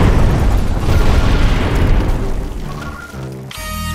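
A torpedo explodes in the Treasure Planet: Battle at Procyon naval space game as a loud, close, rumbling boom that slowly fades, followed by a brief tonal game effect.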